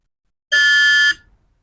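Multimeter continuity beep while testing a diode on a keypad mobile phone's charging circuit, a single steady electronic tone lasting just over half a second, loud and close with faint handling noise after.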